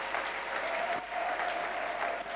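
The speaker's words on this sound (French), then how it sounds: "On peut acclamer le Seigneur." A church congregation applauding during a service, a steady wash of clapping at moderate distance that holds evenly throughout, with a faint sustained tone underneath.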